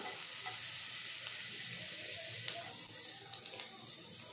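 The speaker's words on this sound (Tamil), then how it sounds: "இந்த பூண்டு கொஞ்சம் நல்லா வதங்கட்டும்" Chopped garlic frying gently in butter for white pasta, a quiet, even sizzle with occasional soft spoon taps against the pan and no voices.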